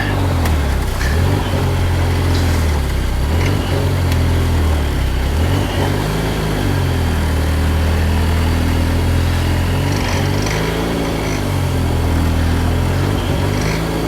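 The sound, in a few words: Ecoboost DeLorean engine running loudly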